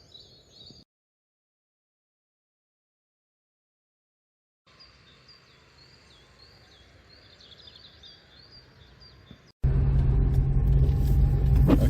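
A 1983 Saab 900 2.0 GL saloon drives off: faint outdoor ambience with some birdsong and a silent gap, then a loud, close engine and road rumble at the end.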